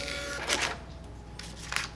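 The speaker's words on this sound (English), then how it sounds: "if you compare it to the thermal receipt printer" A thermal receipt printer at a point-of-sale counter feeds out a receipt in two quiet, short bursts of whirring, with a soft hum between them.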